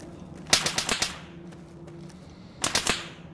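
Two rapid bursts of automatic gunfire in the video game Fallout 3, each a quick string of sharp cracks, separated by a brief pause over a faint steady hum.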